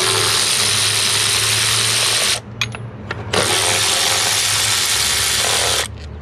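Power tool running loud and close while removing small 8mm bolts on a 6.7 Cummins diesel engine, a steady high whir that cuts out briefly around two and a half seconds, with a few short bursts before it resumes.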